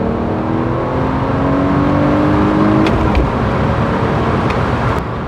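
A BMW E46 launches hard, its engine revving in a rising whine that climbs for a few seconds, then breaks into a rougher, noisier roar with brief sharp clicks.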